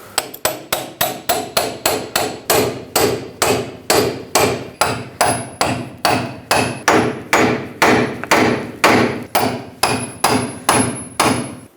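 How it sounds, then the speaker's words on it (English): Rapid, steady hammer blows on a pickle fork, dozens of sharp ringing metal strikes in a fast regular rhythm, loud and close, separating the inner tie rod on a Ford F-350. "I'm still hammering on the pickle fork"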